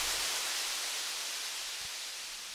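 Organic-sounding white noise sample called noise splash in Ableton, a broad steady hiss that slowly fades slightly in level, heard alone with no other sounds.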